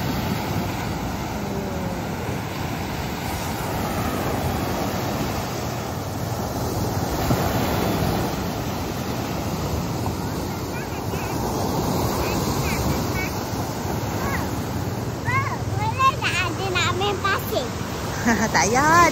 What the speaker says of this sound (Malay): ombak kuat lah.